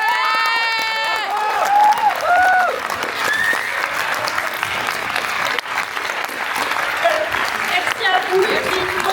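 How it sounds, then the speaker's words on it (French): Crowd at a bookshop's 40th anniversary party bursts into sustained applause with cheers and shouts, loud and close, mixed with chatter and a few whoops throughout. "applaudissez-la."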